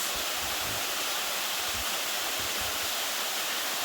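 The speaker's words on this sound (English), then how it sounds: "This is the highest of the waterfalls on this track." The tallest waterfall on a track at Horseshoe Falls Reserve in the Blue Mountains gives off a constant, dense roar of falling water, steady and loud throughout with no other sounds.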